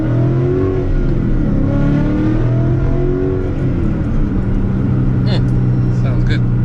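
Car engine revving in cold weather with a whine, loud and steady close up, the engine note rising and falling, while a voice talks over it.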